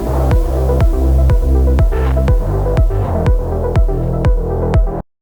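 The brass stab from a track hits in a steady, punchy rhythm, about ten loud, heavy chord stabs over a deep bass pulse, ending abruptly.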